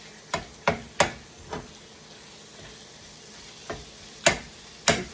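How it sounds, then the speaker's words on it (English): Ground beef broken up and stirred in a pan, with a spatula striking the pan in scattered sharp taps over a soft steady sizzle, close and moderately loud, no talking. "very gentle as I break this ground beef down"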